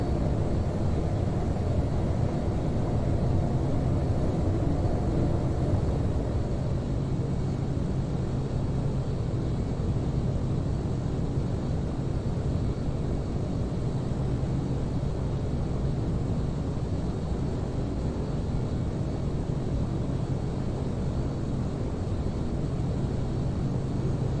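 An ATR 72-500 turboprop airliner in Firefly livery climbs after takeoff in a flight simulator, giving a steady, loud broadband engine and airflow roar that holds constant throughout, with no speech.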